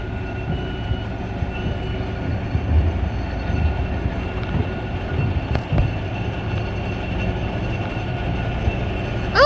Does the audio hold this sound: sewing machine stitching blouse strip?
no